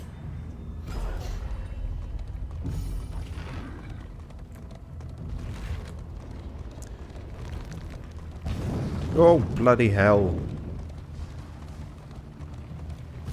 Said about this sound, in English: Imagine getting caught in a drive-by cannon shooting.